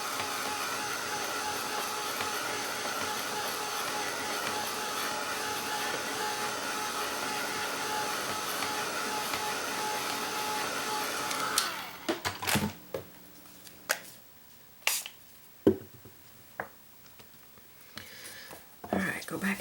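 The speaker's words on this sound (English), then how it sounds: "I'm going to dry this so that I can get a second layer on quickly." Blow dryer drying wet acrylic paint on a canvas, a steady loud whooshing roar for about twelve seconds that then cuts off, followed by scattered soft taps and handling noises.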